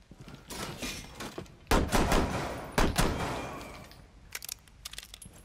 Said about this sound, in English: Oh, he's shooting from the stairs.